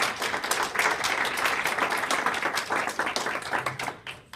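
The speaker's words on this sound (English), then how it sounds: "Now would be a good time for that applause." Audience applause at a student government executive candidate debate, a dense wash of many hands clapping steadily for several seconds before thinning out and fading at the end.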